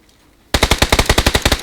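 Automatic gunfire in the PUBG video game: after a short quiet start, a loud, rapid burst of about a dozen evenly spaced shots, sharp and close, with no talk over it.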